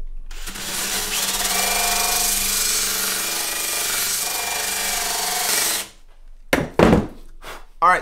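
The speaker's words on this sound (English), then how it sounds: "You can see that we are sanding all of this off" A power sander levels the wooden sides of an acoustic guitar with a loud, steady whir for about five seconds, then cuts off, followed by a few close knocks and thumps.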